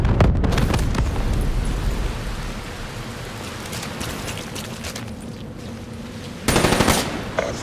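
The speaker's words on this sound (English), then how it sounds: "Friendly Hellstorm inbound." A Hellstorm missile strike in a Call of Duty match: dense, continuous roaring explosions and rapid gunfire-like crackle fill the mix at high volume, swelling again into a louder burst near the end.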